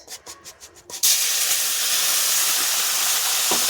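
Dogra fish pieces hit hot oil in a wok, and a loud, steady sizzling hiss bursts up after a few soft rhythmic sounds and holds strong to the end.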